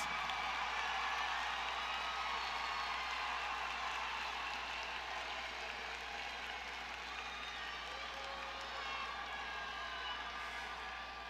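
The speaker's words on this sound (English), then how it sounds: "would you please stand so we can give you a well-deserved round of applause" Steady, dense applause from the audience at a high school graduation ceremony as the parents stand, holding at an even level for over ten seconds without a break.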